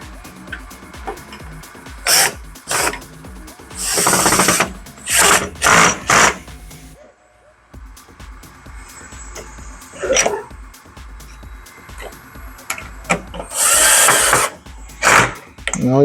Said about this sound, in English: Now I am going to fix tension plate for the door, and also I am replacing the new screws because that one already got